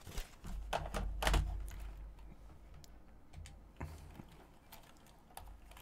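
Rapid clicking of computer keyboard keys in quick bursts, loudest early then sparser taps, close and fairly quiet, with no voices.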